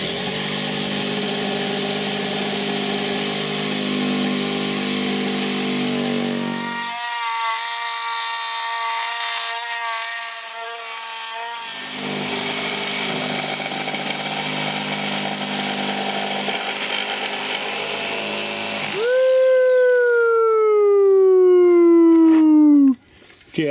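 Power tool cutting a round hole through the wall of a travel trailer for a composting toilet install, a loud sustained whining drone with shifting pitch that drops and resumes midway, ending in a descending wind-down.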